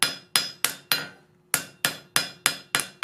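Roughly ten crisp ringing hammer blows fall on hot forged steel during light planishing, evenly spaced with one brief pause, each one sharp and close with a quick metallic decay.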